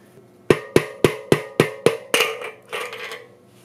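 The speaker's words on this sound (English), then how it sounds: "when you hit this and the axle comes out, it's going to come out the non-drive side" A hammer drives the axle out of a Profile Madera rear bicycle hub with six sharp, evenly spaced metallic knocks, then a couple of duller, ringing blows, close and clear with no talk.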